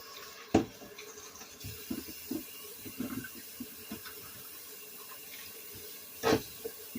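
Chayote is rinsed under a running kitchen tap, giving a soft, low trickle of water broken by a few light splashes and knocks as the squash is handled in the sink.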